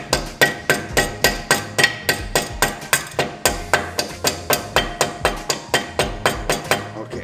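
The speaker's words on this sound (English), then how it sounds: "Take your little mallet." Steady, evenly spaced mallet taps on a metal brake pin of AMG Brembo brakes, about three per second, sharp and close, continuing for several seconds with no talking.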